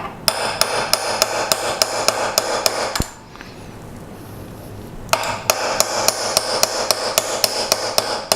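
A cheap hammer strikes a punch to drive a pin out of a Remington 700 during a trigger install, giving a run of quick, evenly spaced metallic taps, a short pause, then another steady series, close by.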